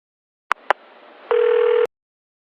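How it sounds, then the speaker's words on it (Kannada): A telephone call is placed: two sharp clicks, a low hiss on the line, then a loud steady electronic tone that sounds for about half a second before cutting off abruptly. "ಹಚ್ಚಲೆ ಫೋನ್ನ."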